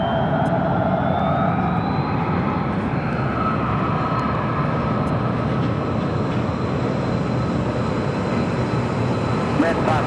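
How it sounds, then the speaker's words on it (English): An American Airlines A321neo jet takes off at Phoenix airport, a steady, loud broadband engine roar holding throughout with a faint rising whine and a distant radio-like voice underneath. "That was a flight heading to Newark, American Airlines Flight 535 and an A321neo,"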